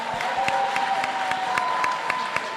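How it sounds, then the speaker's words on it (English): An audience at an event applauds, a dense, steady patter of many hands clapping that lasts throughout at moderate distance, with scattered sharper claps standing out. "Please give yourselves a round of applause."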